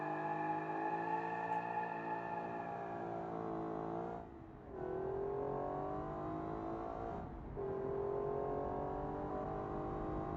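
A 90s-style drift car in a racing video game, driven with a controller, whose engine howls steadily at high revs, with two brief dips as it shifts and then pulls again.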